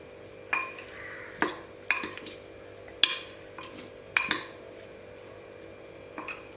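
A spoon mixing instant mango pickle in a bowl, knocking and clinking against it in about eight close, irregular taps over a quiet background.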